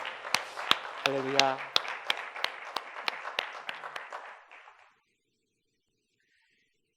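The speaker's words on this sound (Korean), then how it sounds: "주님께 영광의 박수 올려드립니다." A congregation at a Sunday worship service claps in sharp, distinct strokes that taper off, with a voice calling out briefly under the applause before everything falls silent.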